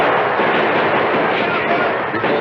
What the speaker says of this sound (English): From the train, more gunfire broke out.